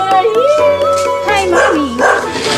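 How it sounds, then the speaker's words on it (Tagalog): Several dogs barking, yipping and whining close by in overlapping bursts, with wavering, howl-like tones mixed through the chorus. "Ay, daming doggy. Aso lang yan."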